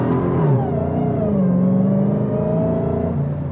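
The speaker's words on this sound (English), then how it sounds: "I spun the tires." A 2021 Dodge Charger Hellcat Redeye Widebody launches from a dead stop without launch control, its supercharged engine roaring loud and close as the revs climb and the tires spin.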